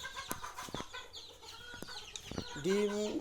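Chickens on a poultry farm cluck and squawk in scattered bursts, faint and somewhat distant, with a louder wavering call near the end.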